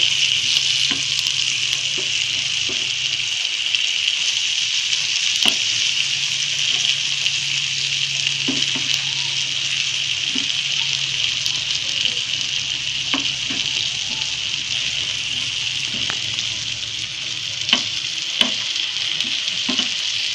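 Kupa tuna fish fries on a nonstick pan over medium gas, producing a loud, steady sizzle that runs unbroken throughout, dotted with scattered crackles and light taps, with no voices.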